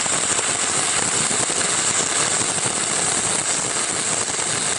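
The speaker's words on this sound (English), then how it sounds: "For 60-10 in the flat position, try a circular motion and angle the rod to build up weld." A 6010 rod arc-welding in the flat position gives a steady, close, crackling sizzle with constant sputtering pops and no pauses or speech.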